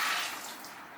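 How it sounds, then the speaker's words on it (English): Kitchen tap water runs in a steady hiss, close and fairly loud, as shrimp are about to be cleaned and peeled. "So I turn the water first."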